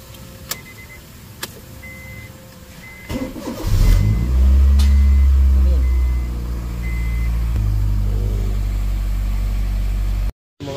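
A Honda Fit with a power-loss fault cranks and fires at about four seconds, then idles loudly and steadily, its tone dropping to a lower settled idle partway through; a few faint clicks and beeps come before the start.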